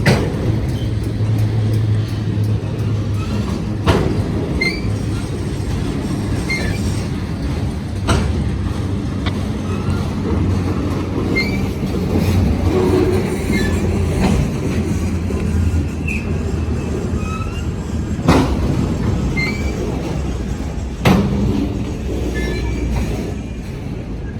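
A CSX freight train rolls steadily past a highway crossing, a continuous loud rumble of railcars with clanking wheel joints and occasional sharp squeals, close by and uninterrupted throughout.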